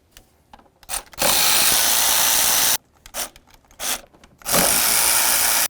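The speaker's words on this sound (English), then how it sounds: "Now we can move along to removing all 4 of our 8mm bolts that hold the throttle body to the intake." Two long, loud bursts of a power tool spinning out the 8mm bolts holding the throttle body to the intake on a Nissan Sentra, separated by softer clicks and handling noises, close by with no talk.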